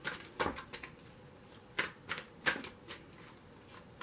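Tarot cards are shuffled by hand for a reading, a quiet, close series of irregular papery riffles and taps, bunched into a few clusters with short pauses between them.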